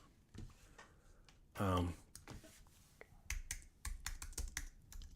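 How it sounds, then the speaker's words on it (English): Someone types on a computer keyboard, with scattered key clicks that gather into quicker, louder bursts toward the end, close and fairly quiet, while a voice briefly cuts in. "We're typing on the computer"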